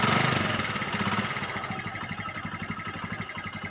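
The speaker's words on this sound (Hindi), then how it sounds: "अभी हम बाइक को किक मार के स्टार्ट करेंगे" A Honda CD 70 motorcycle engine, just kick-started, idles with a steady, rapid low putter, fairly close and moderately loud, with no voices.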